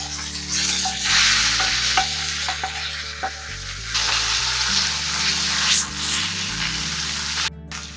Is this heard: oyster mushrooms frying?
yes